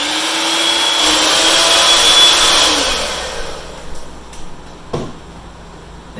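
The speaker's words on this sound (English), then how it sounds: "1½ cups of powdered sugar, followed by 1 teaspoon of vanilla, and mix that all together." Electric hand mixer beating cream cheese icing with powdered sugar and vanilla, a loud steady whirring buzz for about three seconds that winds down and stops, followed by a few faint clinks and knocks.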